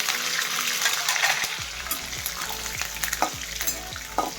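Curry leaves, cumin seeds, chillies and peanuts fry in hot oil with a loud, dense, continuous crackling sizzle heard up close. Stirring scrapes recur under it, and no one speaks.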